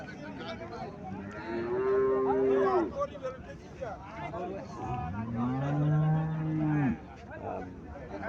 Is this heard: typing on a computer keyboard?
no